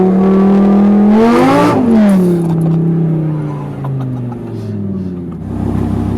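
A supercharged Audi R8 V10 accelerates hard, its engine note climbing in pitch through a gear and dropping at the shift, then rising again, loud and close with a whining edge.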